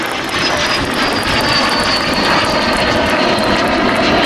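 Fouga Magister jet aircraft performing a torque-roll at an air show, a steady loud engine roar with a whining high tone held throughout.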